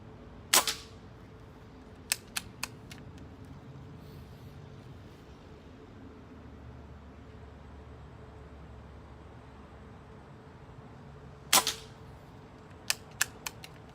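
An air rifle fires .22 pellets, Crosman Premier and JSB Match Diabolo, outdoors. Two sharp, loud shots ring out about eleven seconds apart. Each is followed by a few faint clicks and pellet impacts over quiet background noise.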